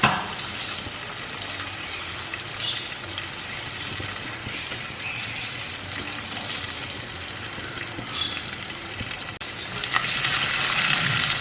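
Mustard seeds, cumin, fenugreek, dried red chillies and curry leaves frying in hot oil for a Kerala Kottayam fish curry, a steady close sizzle and crackle that runs throughout and grows louder near the end, with no talking.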